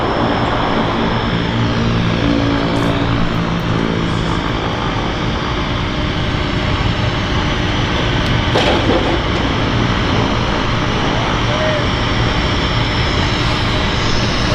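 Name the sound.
airplane landing at Vancouver Harbour Airport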